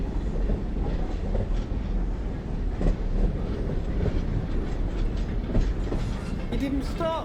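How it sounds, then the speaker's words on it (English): A train runs through a Scottish station platform without stopping, a loud continuous rumble and rhythmic wheel clatter close by, with a faint squeal toward the end. "Train now approaching platform 1"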